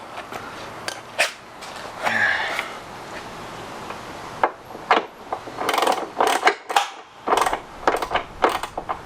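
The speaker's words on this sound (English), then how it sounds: "we'll get a wrench up here to hold it while I crank them down" A wrench cranks down bolts on a Teraflex rock slider during a garage install, giving a string of sharp metallic clicks and ratcheting scrapes in uneven bursts, close and fairly quiet, with no talk over it.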